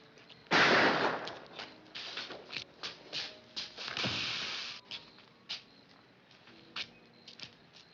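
Gunfire in a 1954 noir film: a loud opening shot followed by a scatter of sharper, fainter reports and clanks spread irregularly over several seconds.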